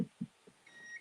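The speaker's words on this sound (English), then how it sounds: "If you hear beeping, that is my backup power supply down here." A backup power supply running a router during a power outage gives a few short, faint beeps spaced apart, followed by a thin high electronic whine.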